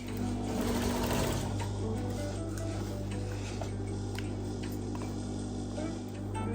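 A sewing machine stitches the back pocket of tailored trousers, a steady close-up whir with rapid ticking that runs continuously throughout over a low mains hum.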